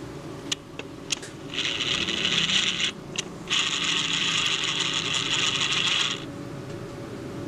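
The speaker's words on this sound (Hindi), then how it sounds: "पैनासोनिक 8045 मॉडल है, ठीक है, इसे हम प्रिंट करते हैं।" Panasonic DP-8045 copier printing a page: a few sharp mechanical clicks, then a steady whirring, rasping feed run that pauses briefly and resumes before stopping, close and fairly loud.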